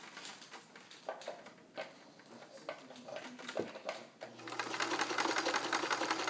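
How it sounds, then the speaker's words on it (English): A restored all-metal vintage Kenmore 158.1941 free arm sewing machine stitches a stretch stitch nearby, first with irregular clicking and knocking, then running into a dense steady mechanical whir that grows louder toward the end. "if you notice the machine, look at the fabric and the way it's feeding."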